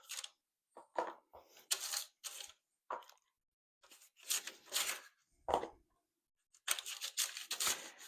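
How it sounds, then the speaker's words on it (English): Melted butter is brushed across parchment paper lining a baking pan for cinnamon rolls, giving close, intermittent crinkly scraping and rustling strokes in short bursts separated by brief pauses, with no talking. "the noise you hear is I'm actually spreading it on top of a piece of parchment paper"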